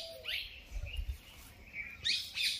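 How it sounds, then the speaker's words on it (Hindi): Birds chirp and tweet in a green village grove, with scattered bright calls near the start and a louder burst of chirping near the end over a soft outdoor background. "चिड़ियों की आवाज़ आ रही"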